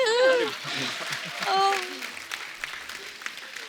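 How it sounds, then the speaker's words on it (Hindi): Applause breaks out amid voices, a TV comedy show studio audience clapping with lively, scattered claps that continue after the voices fade. "जोरदार ताली"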